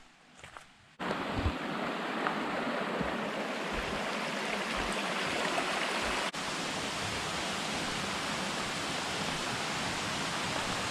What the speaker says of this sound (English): I guess the water just kind of rushes through here